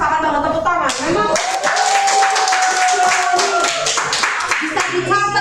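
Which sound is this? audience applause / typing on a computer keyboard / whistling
audience applause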